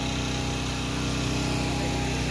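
A small motor generator engine, running during a power outage, drones steadily and close by, an unbroken mechanical hum that never changes pace or pauses.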